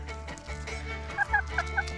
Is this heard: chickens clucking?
yes